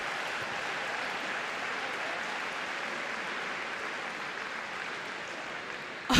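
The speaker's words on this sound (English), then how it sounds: "Well, you heard the crowd erupt." A tennis crowd at a semi-final in Glasgow erupts in loud, sustained applause and cheering, a steady dense roar of clapping that holds for several seconds.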